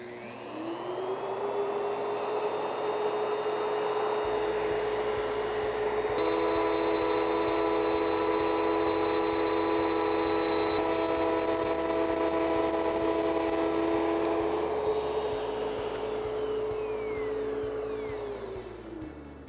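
A router cuts a 1/4 inch wide, 1/4 inch deep dado against a fence, a loud steady whine that spins up, holds through the cut with a deeper grinding tone as it bites the wood, then winds down.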